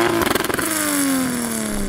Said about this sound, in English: All right, Ben, let's have a listen to your 3 litre turbo engine.